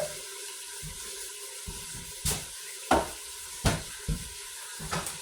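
Butter sizzles softly and steadily in a pan, with a few sharper crackles and pops rising every second or so above the low frying hiss.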